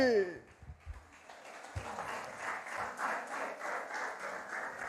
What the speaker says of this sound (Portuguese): podem aplaudir ao Senhor mais alto e mais forte